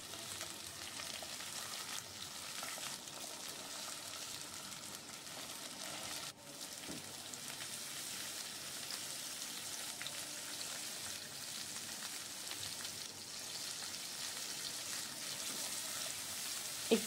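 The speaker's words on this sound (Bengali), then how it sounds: "একটু ভালো করেই ভেজে নিচ্ছি।" Pieces of taro root and potato fry in a pan with salt and turmeric, giving a steady, close hiss and crackle of sizzling oil that continues evenly throughout with no talk.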